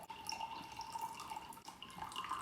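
Tea trickles from a vessel into a mug in a thin, wavering splashy stream, close and fairly quiet, a brief uneven pour with small drips.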